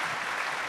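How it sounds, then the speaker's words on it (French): At a conference session, the audience gives the speakers a brief burst of even, continuous clapping, heard from within the room with no voices over it. "Je pense que vous pouvez applaudir quand même nos orateurs."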